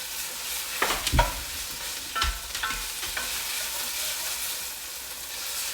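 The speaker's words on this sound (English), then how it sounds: "And we're gonna stir that around." A spoon stirs garlic and onions frying in a pot, scraping in a few distinct sweeps over a steady, soft sizzle.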